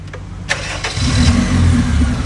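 A 2010 Honda Civic just back from a top overhaul cranks briefly and fires up, settling into a steady, close idle rumble.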